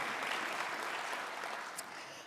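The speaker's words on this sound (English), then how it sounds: "So a round of applause for all of our team." An audience at a 2017 dementia event applauds its organising team with a steady, dense clapping that fills the hall and slowly tapers off over about two seconds.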